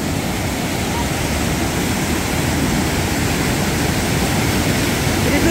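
The wild mountain river Psezuapse near Lazarevskoye in Sochi rushes past in a constant, loud broadband roar of churning water, close by and unbroken throughout.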